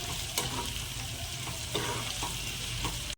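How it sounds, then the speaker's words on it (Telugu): A hand-pounded paste of ginger and shallots fries in a pan, a loud, continuous close sizzle with occasional scraping strokes as it is stirred. "అల్లం చిన్నపాయ పేస్ట్ పచ్చి వాసన పోయిన దాకా వేపుకోవాలి."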